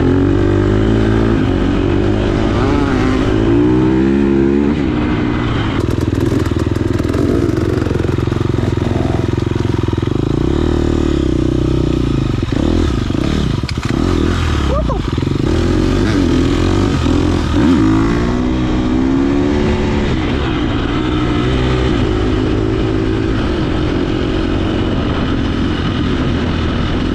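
A dirt bike engine revs loudly and steadily through a hill climb, its roar rising and falling as the rider pushes up the slope, close and continuous with no talk over it.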